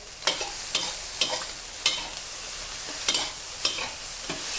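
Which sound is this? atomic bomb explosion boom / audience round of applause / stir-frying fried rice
stir-frying fried rice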